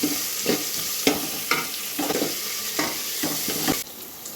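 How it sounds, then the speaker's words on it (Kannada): Curry leaves stir-fried in a pan, a close sizzle broken by a regular rhythm of about eight stirring scrapes, then a quieter steady fry at the end. "ಕರ್ಬೇವಿನ ಸೊಪ್ಪು ಹಾಕಿದ್ದೀನಿ ಇದು ಸ್ವಲ್ಪ ಕೆಂಪಿಗೆ ಬ್ರೌನ್ ಕಲರ್ ಆಗಬೇಕು ನಾವು ಹುರಿತಾ ಇರೋದು"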